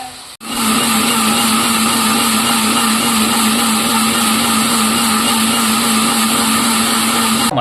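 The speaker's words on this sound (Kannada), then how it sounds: "ಮಟನ್ ಸಾಂಬಾರ್ ಪೌಡರ್ನ ಮಿಕ್ಸಿಲಿ ರುಬ್ಬಿ ನಂತರ" A kitchen mixer grinder grinds mutton sambar powder with a loud, steady, high-pitched whirring drone that starts abruptly and runs unbroken throughout.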